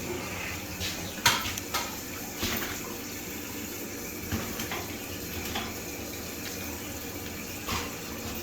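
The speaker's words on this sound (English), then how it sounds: "let's go ahead and turn the water on" Water runs from a newly installed bathroom faucet in an 1800s bathroom remodel, a faint, steady hiss with a few soft clicks and knocks near the start.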